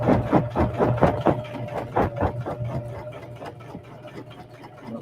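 A sewing machine stitches in the ditch on a Christmas stocking, with a rapid, steady mechanical chatter of needle strokes that is close and prominent, then eases into a quieter, more even run toward the end.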